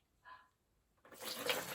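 Coloured water poured from a small container in a children's pouring game, a brief soft trickle followed by a louder, steady splashing pour that runs to the end, with no voices.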